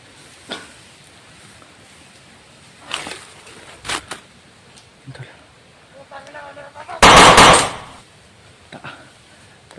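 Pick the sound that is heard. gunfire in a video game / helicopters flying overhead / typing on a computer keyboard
gunfire in a video game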